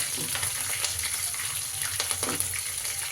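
Green chilies fry in hot oil for gonguura chicken, a dense steady sizzle with a few light stirring scrapes, close and continuous throughout.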